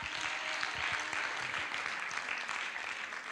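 Sustained audience applause at a church anniversary gathering, a dense wash of clapping filling the room at a steady level with no voices.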